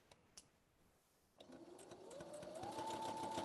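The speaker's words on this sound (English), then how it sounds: "let's sew away. Let's sew down the bias tape, okay? Let's sew it down." A sewing machine stitching bias tape onto an apron starts after a few quiet clicks, its motor whirring up to a steady, rising hum with a fast rhythmic needle patter, close and alone.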